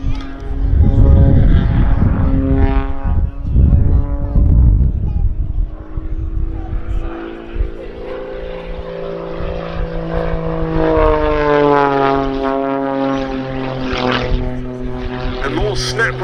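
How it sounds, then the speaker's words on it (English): A Pitts S-2S aerobatic biplane performing at the Duxford summer air show, its propeller engine roaring loudly up close, then droning and shifting pitch as it climbs away, while an announcer talks over it. "showing us this aircraft's penetrating vertical capability"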